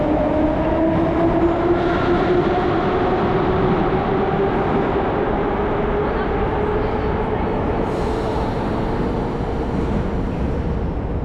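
A Moscow metro train rumbles steadily and loud from inside, its rising motor whine gliding upward over the continuous roar of the wheels.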